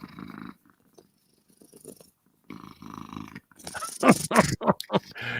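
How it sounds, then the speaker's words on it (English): A cat purrs close by in soft rumbling bursts, broken by short pauses, then louder breathy, snorting sounds near the end. "Is she purring right now? Yeah. Her motor's running. I can hear it."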